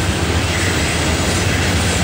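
A Norfolk Southern autorack intermodal freight train, led by C40-9 and C44-9 diesel locomotives, rolls past near Mableton with a loud, steady, close rumble and wheel clatter that never lets up.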